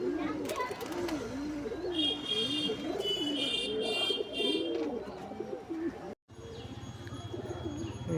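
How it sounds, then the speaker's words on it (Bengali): A black female pigeon coos in a loft, with steady, repeated rolling calls up close that fade out after about five seconds, then a brief gap and a low steady background hum. "এটা কালো মাদা পায়রা"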